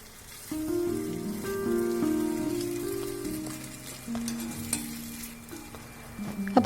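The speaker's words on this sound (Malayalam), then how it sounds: "ഒരു 1 മിനിറ്റും കൂടി നന്നായിട്ട് നമുക്ക് റോസ്റ്റ് ചെയ്യാം." Spicy chicken masala roasts in a pan with a steady, moderate sizzle and occasional stirring scrapes, close and continuous, with no voices.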